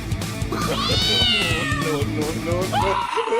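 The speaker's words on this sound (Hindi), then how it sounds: "भैया दीदी इतना प्यारा बिल्ली का बच्चा" A small kitten meows repeatedly in a few rising, wavering cries, close and fairly loud, with other voices and background noise underneath.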